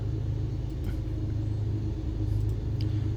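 Light aircraft engine idling at about 1,000 RPM, a steady low rumbling drone with even, continuous loudness and no voices over it.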